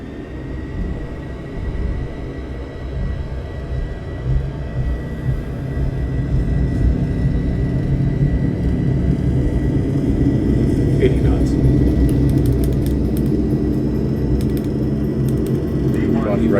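In a flight simulator, an airliner's engines rumble steadily at takeoff thrust during the takeoff roll, building gradually in loudness beneath pilots talking throughout.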